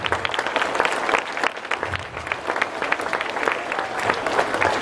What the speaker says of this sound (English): they definitely need a round of applause. Loud one.